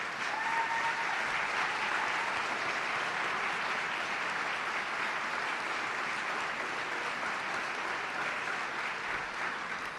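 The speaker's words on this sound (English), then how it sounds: "I would like to ask that all the Boys and Girls Club members and ambassadors who are present to please stand for a round of applause" A room full of people claps steadily for Boys and Girls Club members and ambassadors at an event, sustained dense applause at a constant level for the whole stretch, with no voices standing out.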